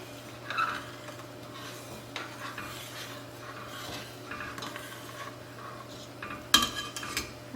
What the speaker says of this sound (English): And then I have to stir it and skim off any of the foam that accumulates on the jam.